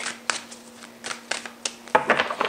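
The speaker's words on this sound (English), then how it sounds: "Let's shuffle them pretty good here." Tarot cards are shuffled by hand, quick riffling bursts repeating irregularly, close and fairly quiet, with a louder flurry at the end.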